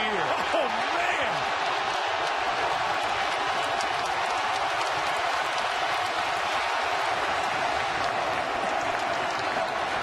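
Deafening basketball arena crowd roaring continuously at Maryland versus Georgetown, a dense, unbroken wall of cheering and applause with a commentator talking over it.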